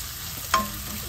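Onion and garlic sautéing in a pan for ginataang kuhol: a steady close hiss of frying with one brief scrape or clink of a utensil.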